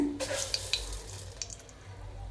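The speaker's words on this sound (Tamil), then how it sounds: "நான் ஒரு 6 காஞ்ச மிளகாய் போட்டுக்கிறேன்." Six dried red chillies drop into hot oil for a thundu-style chutney, giving a soft steady sizzle with a few light crackles and stirring scrapes, fairly close and without talk.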